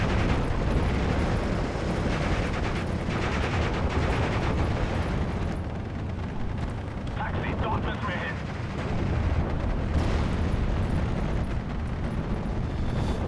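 Artillery strikes pound away in the WWII strategy game Steel Division: Normandy 44, dense continuous explosions and gunfire rumbling loudly throughout.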